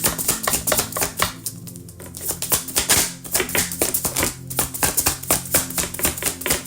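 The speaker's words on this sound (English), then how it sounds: "Deck does not want to shuffle." A tarot card deck shuffled by hand, a steady run of crisp riffling taps and card slaps repeating at close range for several seconds, with a couple of brief pauses and no talking.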